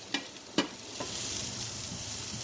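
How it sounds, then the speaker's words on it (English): An omelet frying in a preheated skillet, giving a steady close sizzle with a few sharp crackles and pops near the start. "it's kind of cooking kind of fast, not even on the stove, because I had my skillet, you know, preheated"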